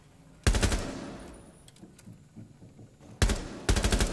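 Rapid automatic gunfire in a shooting video game, two close bursts of sharp shots separated by quieter game noise and scattered clicks.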